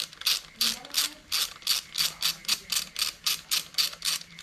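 A ratchet wrench works on the injectors of an S1000RR motorcycle, giving about a dozen evenly spaced clicking bursts in a steady rhythm, close and clear with no talk.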